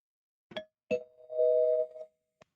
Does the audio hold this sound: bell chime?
yes